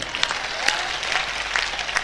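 Audience clapping steadily at a poetry recital gathering, a dense, continuous burst of applause from a crowd heard without speech.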